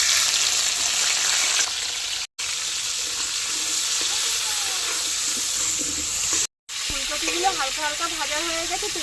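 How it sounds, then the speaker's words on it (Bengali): Cauliflower pieces fry in oil in a wok, a dense, close sizzle that runs steadily apart from two brief cutouts, with a voice faintly heard near the end. "এবার আলুগুলিকে তুলে নিয়ে ফুলকপিগুলোও ভেজে নেব"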